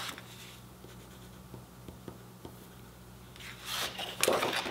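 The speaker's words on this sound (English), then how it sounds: "I'm going to write my name on the back." Pencil writing a name on the back of watercolor paper, soft scratchy strokes with light taps in an irregular rhythm, close and quiet, growing louder and busier toward the end.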